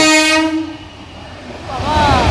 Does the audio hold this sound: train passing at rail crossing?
yes